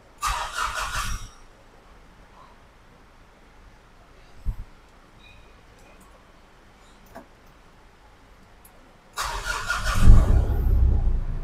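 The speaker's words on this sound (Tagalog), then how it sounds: "Nag-start na siya gamit ang push button." A Mitsubishi Montero engine is started with a push-start button: a short starter burst cranks it at the beginning, then a quiet pause with a few small clicks and ticks, then the engine fires again near the end and settles into a close, loud idle.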